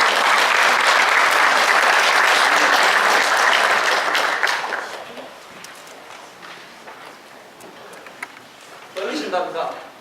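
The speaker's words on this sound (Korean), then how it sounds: "큰 박수로 모시겠습니다" A Korean community event audience applauds loudly for about five seconds as a former neighborhood community leader is introduced, then the clapping fades to a low murmur before a voice speaks briefly near the end.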